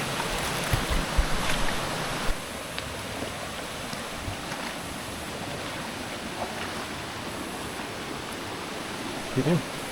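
Rushing water of Jet Khot waterfall in Saraburi, Thailand, a steady broadband roar filling the whole clip, with a few faint knocks and wind bumps against the microphone near the end.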